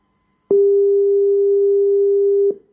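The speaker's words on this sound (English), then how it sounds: "This one is not ringing." A steady electronic phone-line tone sounds loud and alone, one unbroken beep lasting about two seconds before cutting off sharply.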